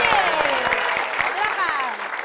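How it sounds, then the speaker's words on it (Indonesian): A studio audience claps briefly and continuously on a comedy show, with a voice speaking over the applause. "kita tepuk tangan dulu untuk Mbak Yanti"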